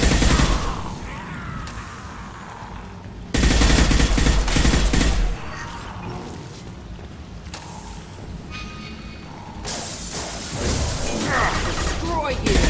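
Weapon fire in the sci-fi shooter Mass Effect 2 during a squad battle: bursts of gunshots with mechanical clanks and impacts, a loud stretch of heavy firing in the middle, under intermittent talk.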